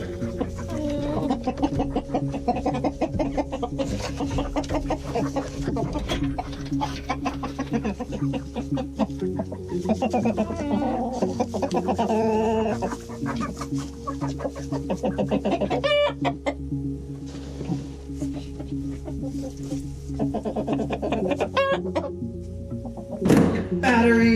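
Chickens cluck and squawk steadily inside a coop over continuous background noise, with rhythmic clatter and occasional thumps mixed in.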